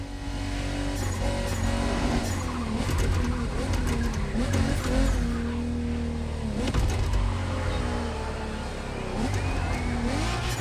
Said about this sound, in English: Your brand new Honda NSX Liberty Walk Edition.